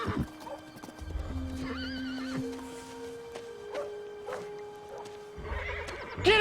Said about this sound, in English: You spooked my horse!